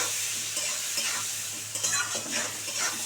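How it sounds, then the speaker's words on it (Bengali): Steady sizzling of vegetables frying in a pan with turmeric, with occasional scraping stirs, close and continuous without talk. "এবার এটাকে সুন্দর করে ভাজা ভাজা করব"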